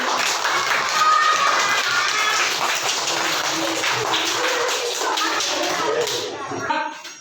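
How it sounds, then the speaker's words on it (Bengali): Children clap their hands at a school magic show, a dense, lively patter of small claps mixed with excited kids' voices and chatter, steady throughout before cutting off near the end. "হাততালি হাততালি হাততালি"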